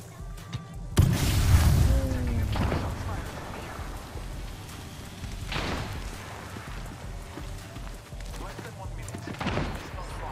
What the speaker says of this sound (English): Oh, I'm getting sniped from both sides.